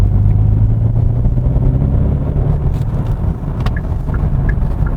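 A 2021 Hyundai Sonata N Line's engine drones steadily at close range, its active sound design adding a loud, continuous low hum and rumble with no break.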